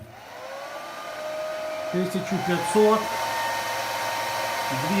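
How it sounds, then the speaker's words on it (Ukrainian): A hair dryer whirs steadily with a whining tone that rises in pitch, while someone speaks briefly over it, during a load test of power equipment. "плюс додаю фену"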